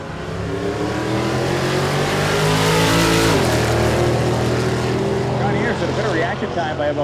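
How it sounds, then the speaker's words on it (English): Loud engine roar from a 1963 Ford Fairlane and an LS-powered 6-speed fifth-generation Camaro racing side by side at a drag strip event, steady and close, dipping sharply midway before resuming, with an announcer talking over the noise. "The Fairlane trying to hold off the hard charge of the LS motor, but it can't do it"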